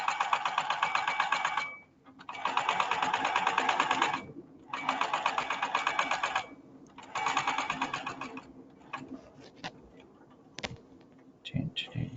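A sewing machine stitches fabric in four loud, rapid bursts of clattering needle action with short pauses between, followed by quieter handling clicks and a soft voice.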